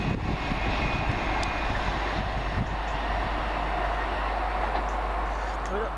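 A passing train rolls through Smethwick Galton Bridge station, a dense, noisy rumble with rapid rhythmic wheel clatter, close and fairly loud throughout, with a few faint high squeals on top.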